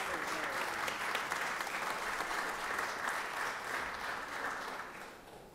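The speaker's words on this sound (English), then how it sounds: "Can we give her a round of applause real quick?" Steady applause from a crowd in a state Senate chamber session, many hands clapping continuously and fairly loud, tapering off slightly at the end.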